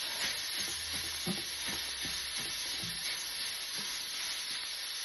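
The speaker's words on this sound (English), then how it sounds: "just want to break up the mince" Minced meat sizzles steadily in a hot pan for chilli, with intermittent scraping and tapping as a masher-like tool breaks it apart; a constant hiss runs underneath.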